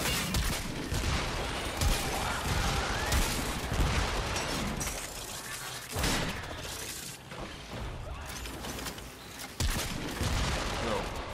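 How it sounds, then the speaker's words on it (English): Sustained automatic gunfire from the Piranha gun in the shooter game Warframe, a loud, steady stream of shots with booming impacts, briefly pausing twice before resuming. "once I can focus on an enemy, I can gun them down really quickly"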